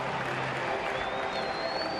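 Crowd applause at a Detroit at Minnesota major league baseball game after a catch in a key spot, a steady wash of clapping and cheering filling the stadium with a faint whistle rising in the mix.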